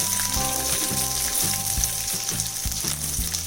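Green chillies frying in hot oil in a kadai give a steady, close sizzle with repeated low stirring knocks, heard alone without talk.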